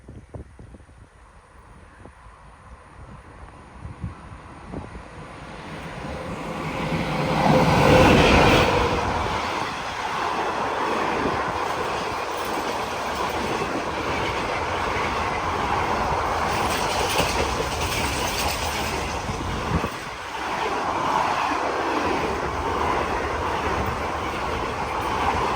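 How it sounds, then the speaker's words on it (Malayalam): A train from Kannur pulls into Ezhimala railway station, a rural stop in Kerala. A loud, steady rumble of rail cars rolls on for most of the stretch, rising sharply early and continuing with faint wheel clatter and squeal, with no talking. "കണ്ണൂരിൽ നിന്ന് വരുന്ന ട്രെയിനിൻ്റെ ആ ഒരു ഹോണടി കേൾക്കുന്നുണ്ട്."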